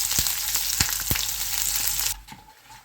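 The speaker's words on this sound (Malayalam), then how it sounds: "എന്നിട്ട് നമുക്ക് സോട്ട് ചെയ്ത് കൊടുക്കാം." Coconut slices and ginger sauté in hot oil for a restaurant-style pork fry, giving a loud, steady close sizzle broken by a few sharp stirring taps before the hiss drops away abruptly near the end.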